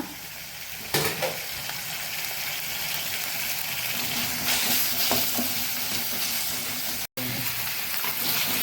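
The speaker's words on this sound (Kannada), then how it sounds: "ಕೊರಿಯಾಂಡರ್ ಲೀವ್ಸ್, ಸ್ವಲ್ಪ ಇದರಲ್ಲಿ ಫ್ರೈ ಆಗಲಿ." Chopped coriander leaves fry in a Mangalorean cashew masala, making a continuous close sizzle, with a few stirring clinks and scrapes from the pan.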